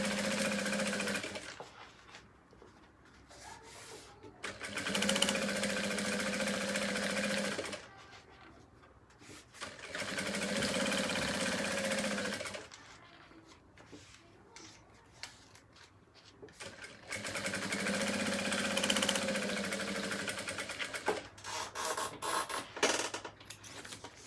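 A sewing machine stitches fabric for an elastic organizer pouch, running in several separate bursts of steady whirring with quieter pauses between them, close and fairly soft.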